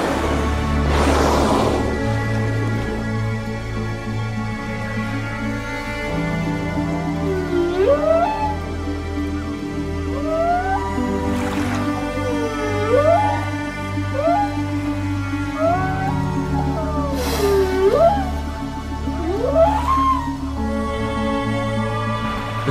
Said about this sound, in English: nothing is quite like the whale song.